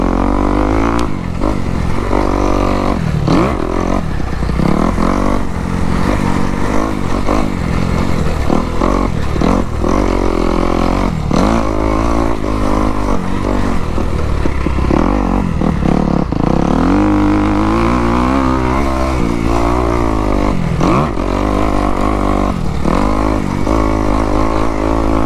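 A dirt bike rips a lap around Oak Hill Raceway, a motocross track with soft, rutted dirt in Decatur, Texas, its engine loud and close throughout, revving hard and dropping off again and again through the corners and straights.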